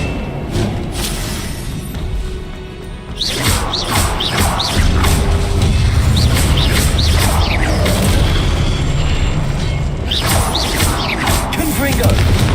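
Incendio fire spell cast in Hogwarts Legacy: a string of sharp whooshing bursts and booms repeat in quick succession over a rumbling battle background, loud and close.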